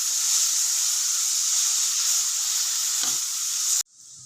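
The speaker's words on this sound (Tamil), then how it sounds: "ஸ்டவ்வை மீடியம் ஃப்ளேமில் வச்சு 10 நிமிஷம் நல்லா வதக்கிக்கலாம்." Grated carrot sautés in a pan over a medium flame with a steady bright hiss of frying and one brief stir, then the sizzle cuts off abruptly near the end.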